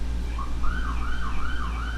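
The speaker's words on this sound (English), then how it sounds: "I told y'all were gonna get obligatory sirens today" Emergency vehicle siren wailing outside in hot weather, a steady rising and falling tone repeating several times at moderate distance over low background rumble, with no talk.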